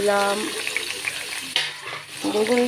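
Eggplant pieces sizzle in oil in a wok that was not preheated, giving a steady frying hiss throughout, with tonal background sounds at the start and end.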